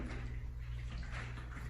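Water sloshes inside a hand-held container lifted overhead, a continuous close, steady swishing and churning with no talk.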